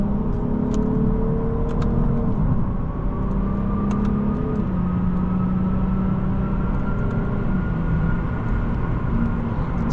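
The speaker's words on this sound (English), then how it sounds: "Naturally aspirated engines always sound so good." Naturally aspirated V6 of a 2025 Lexus IS 350 F Sport sedan accelerating on the road, a loud continuous engine drone climbing in pitch through gear changes, heard from inside the cabin with road rumble beneath.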